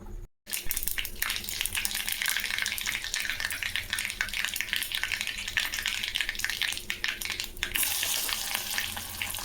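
Mustard seeds frying in oil for a tempering, a steady close sizzle and crackle with faint stirring, growing a little brighter near the end, no voices.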